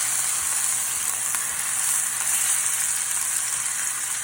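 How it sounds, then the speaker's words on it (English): Ground turkey for lasagna hissing in a hot pan, a loud, steady, close sizzle that runs unbroken throughout with nobody speaking. "we throw your ground turkey up in there. Whoa, look at that sizzle."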